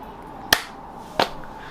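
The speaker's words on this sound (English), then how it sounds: "I did a click and a clap" Two sharp, close percussive hits, a finger click followed by a hand clap, about half a second apart in a quiet room.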